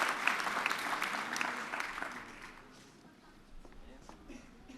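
Audience at a Cassel Harmony quiz game claps for the returning champion, applause that is fairly full at first then thins out and fades, with a few scattered claps and faint voices afterward.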